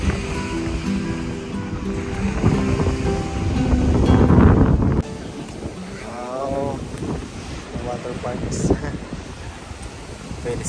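Strong wind-driven waves breaking on the Lake Ontario shore near Liverpool, Pickering, a rushing surf heard close with microphone wind buffeting, louder in the first half, while people talk over it.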